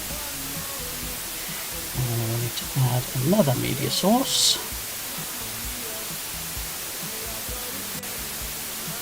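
A white noise audio file plays as a steady, even hiss that fills the whole stretch, unchanged while someone talks briefly over it.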